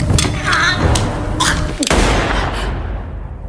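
A gunshot amid a violent struggle in the sci-fi film What Happened to Monday: a loud, full-band bang over dense action sound and rumble, with a second sharp crack midway before the noise trails off.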